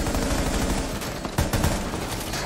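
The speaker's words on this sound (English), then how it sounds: "But kind of just tap firing them." Rapid tap-fired gunshots in the tactical shooter game Rainbow Six Siege, dense and continuous with no pauses, loud and close throughout.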